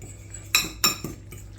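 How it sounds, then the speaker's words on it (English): Fork clinking and scraping against a bowl while stirring dry sage and onion stuffing mix with water, three short close clinks in quick succession over a quiet background. "You've got to sort of put 400 mils of water in and give it a good mix up and let it stand"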